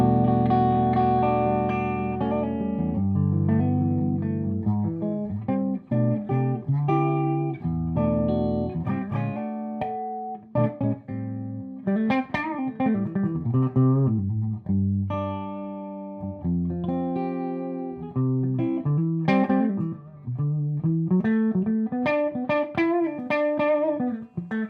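Electric guitar with a thick, saturated overdriven tone plays chords and melodic lines through a Davis 2C8 head amp with both humbuckers, sustained notes ringing out with some reverb.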